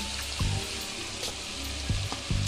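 Garlic, ginger and dried chilli paste sizzle with mutton in a pot, a steady close hiss with a few low thumps and scrapes from stirring.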